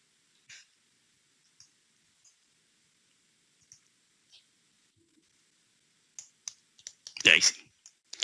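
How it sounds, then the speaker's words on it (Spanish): A computer mouse gives several isolated, sharp clicks spaced out over a quiet room. A breathy burst of noise comes near the end. "Un segundo, voy a hacer clic acá."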